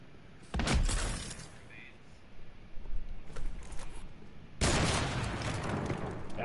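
Gunfire bursts in a shooter video game, a loud crackling volley early on, scattered shots in the middle, then a sustained heavy stretch of firing near the end, with players talking over it.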